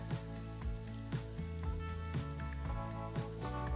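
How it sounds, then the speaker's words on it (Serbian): Uštipci, Serbian dough fritters, fry in hot oil with a continuous soft sizzle, heard faintly against a louder layered background of steady tones and regular beats. "ovo se lepo i brzo prži"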